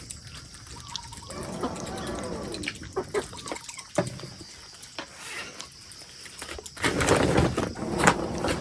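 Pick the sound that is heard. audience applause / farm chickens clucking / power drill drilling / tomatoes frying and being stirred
farm chickens clucking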